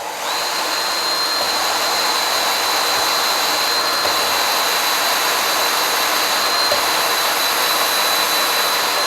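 A power drill spins steadily to lap a rusty exhaust valve on a Lister CS engine, making a loud, continuous high whine with a constant gritty hiss, unbroken and close-up.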